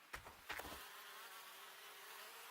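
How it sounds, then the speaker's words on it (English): Flies buzz in a continuous faint drone inside a messy building in the video game Gold Rush, after a couple of brief knocks at the start. "you can hear flies buzzing"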